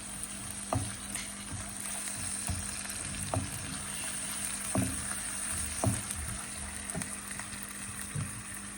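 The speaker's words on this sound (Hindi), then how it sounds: "बड़ी अच्छी खुशबू आ रही है देसी घी में जब ये भुन रहा है" Garlic and ginger sizzle in desi ghee for Punjabi-style sarson ka saag. A steady close frying hiss runs throughout, with periodic spoon knocks and scrapes against the pan and no voices.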